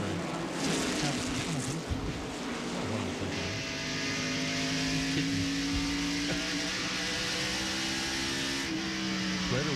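NASCAR stock cars at the 1995 Food City 500 roar past in a dense, steady engine drone with rising and falling pitches as cars pass, under race commentary.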